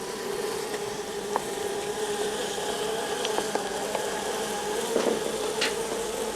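Honeybees hum in a continuous, even drone at an apiary during queen insemination work on a hot day, close and steady throughout with a few faint clicks and knocks.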